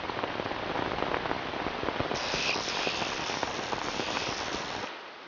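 Heavy rain pours steadily during a storm in the wild western isles of Scotland, a dense, even hiss of drops on surfaces that continues for several seconds and then eases slightly at the end.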